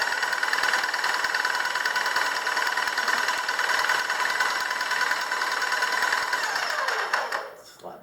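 Graco ProX17 airless paint sprayer pump running on prime during cleaning, a steady loud mechanical hum with rapid pulsing that holds for about seven seconds, then winds down and cuts off near the end.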